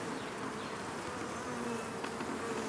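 A honeybee buzzes close up inside a beekeeper's veil while nucs are being prepared, a steady, faint, high-pitched droning hum with no talking.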